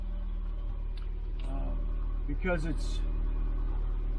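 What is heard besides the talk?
humming noise from front of 2006 Ford Escape Hybrid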